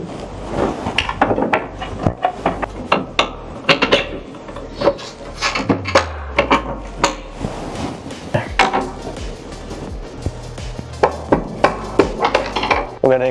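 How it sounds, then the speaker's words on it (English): Chisel work fitting a motor mount bushing during an electric motorcycle conversion: repeated sharp metallic taps and scraping clatters in an irregular rhythm, close and fairly loud, with a brief low rumble midway. "We're going to include the chiseling."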